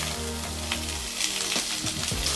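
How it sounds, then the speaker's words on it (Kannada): Onion, tomato and green chilli sizzle loudly in a couple of spoons of hot oil, a close steady crackle broken by a few quick scraping stirs. "ಚೆನ್ನಾಗಿ ಹುರಿಬೇಕು."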